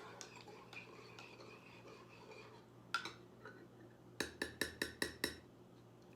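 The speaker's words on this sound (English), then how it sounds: "Stir it up." A spoon stirs a peppermint mocha in a glass, starting with soft swirling clinks, then a rapid run of six or seven bright, ringing taps against the glass, close and clear.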